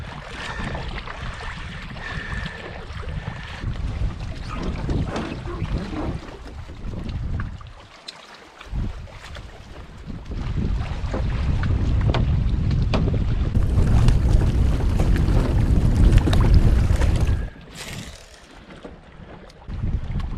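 Strong headwind roars across a lake in northern Manitoba, buffeting the microphone in loud, uneven gusts around a small boat, dropping briefly before surging again.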